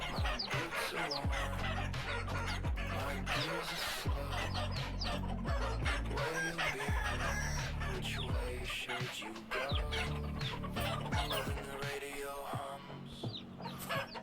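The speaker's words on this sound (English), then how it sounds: "get out of there, rooster" Chickens in the game Vintage Story cluck busily and nonstop while a rooster crows among them, a dense, lively farmyard chorus with no voices.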